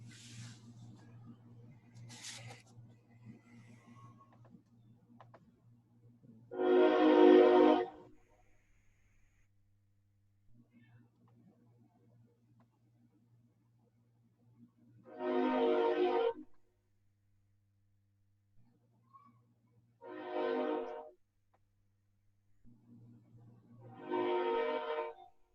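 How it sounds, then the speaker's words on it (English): Passing at close range beside a parking garage built next to the railway tracks, a train gives four loud, roaring blasts spread out over the stretch, with a low steady hum in between and no speech. "That's a loud freaking train."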